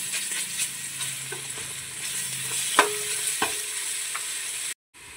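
Egg biryani masala with ginger garlic paste is stirred and fried in a pan, with a steady close sizzle and a few sharp spoon scrapes and clinks, ending in a brief cut to silence.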